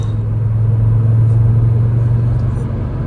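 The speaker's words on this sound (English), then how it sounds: "All right, so car's running good." A 2024 Audi RS3 with a tuned engine map, running on 93 octane, holds a steady, deep idle rumble, close and unbroken, with no revving and no voices.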